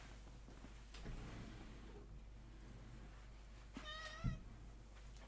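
A distressed pet cat meows once, a short rising cry over a low steady hum in a quiet room, with faint background noise and no talk.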